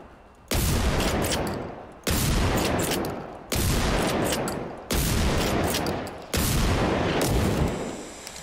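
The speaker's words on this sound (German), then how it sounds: "da hat einer durchs Haus geschossen" Five loud gunshot blasts from the survival shooter game Generation Zero, evenly spaced about every one and a half seconds. Each bang cracks sharply and trails off into a long echoing decay, with no talking over them.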